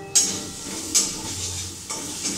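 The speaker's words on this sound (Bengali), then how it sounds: "মশলাটাকে ভালো করে আগে ভেজে নিতে হবে" Spice masala frying in oil in a pan, a steady sizzle broken by three sharp scraping strokes of a spoon stirring it, close and fairly loud with no talk.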